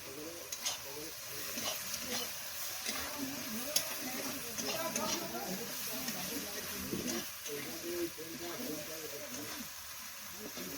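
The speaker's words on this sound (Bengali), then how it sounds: "আর আলু ভাজা হচ্ছে" Potatoes fry in a pan on a wood-fired village stove, giving a steady close sizzle with scraping and stirring clatter and a few sharp clicks, with faint voices in the background.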